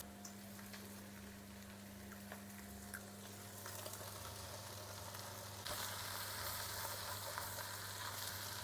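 Meat and onions for plov sizzle and fry steadily over maximum heat in a small cauldron, a continuous crackling hiss that grows slightly louder toward the end.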